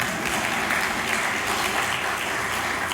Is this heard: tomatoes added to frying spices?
no